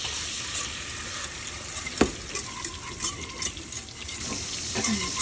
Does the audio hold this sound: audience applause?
no